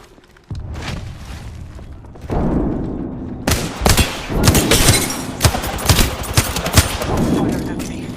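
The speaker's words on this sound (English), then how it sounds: "Hey, I'm getting shot." Rapid automatic gunfire bursts in the video game Apex Legends, loud and close, with repeated volleys and heavy low thuds, opening quietly before intensifying into dense, overlapping shots for most of the clip.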